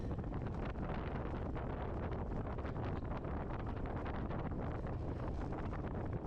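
Wind buffets the microphone while riding hard into a headwind during a women's bicycle road race in California, a constant, loud, rough roar with gusty bursts throughout.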